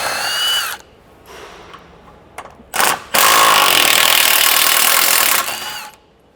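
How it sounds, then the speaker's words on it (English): A power tool, likely an impact or drill driver, spins out the sway bar mount bolts on a Toyota LandCruiser LC300 in short bursts, ending in one long loud whir about three seconds long, close up with no talking. "So we need to remove these bolts that hold that sway bar mount in."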